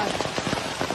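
Rain falling in a pine forest near the summit of Klepu, a dense rushing patter of drops with soft thuds, loud and close for a brief moment.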